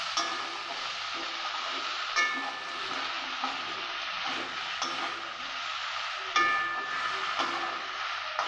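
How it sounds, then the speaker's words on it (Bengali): Okra stirred and frying in hot oil in a pan for a Bengali dheros bhaja, a steady close sizzle with soft scraping stirs and occasional louder clatters of the spatula against the pan. "তেলের মধ্যে ঢ্যাঁড়সগুলোকে দেওয়ার পরে সেগুলোকে কন্টিনিউয়াস নাড়তে থাকবো"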